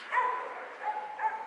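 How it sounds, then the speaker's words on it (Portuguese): Dogs bark faintly at night from a neighbour's balcony in a Brazilian neighbourhood, a few muffled, distant yaps blending into a hazy background. "Olha os cachorros, gente."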